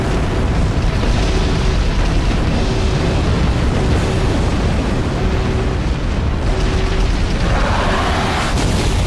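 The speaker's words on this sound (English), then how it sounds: "That explosion from orbit." An explosion from orbit in the video game Halo 3, a loud sustained rumbling roar that fills the whole stretch, with a faint repeating tone underneath and a brief rushing swell near the end.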